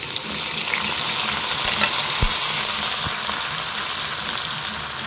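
Onion and garlic sauté in a hot pan for chicken tinola, giving a loud, continuous crackling sizzle with a few sharp clicks of stirring throughout.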